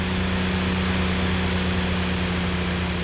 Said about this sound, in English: pardon the loud engine